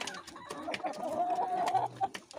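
Chickens cluck close by in a flock that includes a white rooster, a busy run of short clucks and calls with farmyard sounds.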